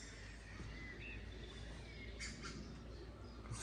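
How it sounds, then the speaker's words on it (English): Faint birds chirp and squawk in the distance at a nature reserve, with scattered calls over a soft, steady outdoor background. "I'm at a nature reserve, so you can hear the birds."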